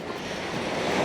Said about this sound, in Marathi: भाऊ समुद्र खवळला